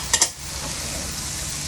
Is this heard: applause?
no